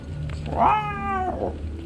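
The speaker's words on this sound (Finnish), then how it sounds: "2 kollikissaa taistelee." Two tomcats fight in Metal Gear Solid 3, giving a single drawn-out, wavering yowl that rises and then falls, close and clear over a low background hum.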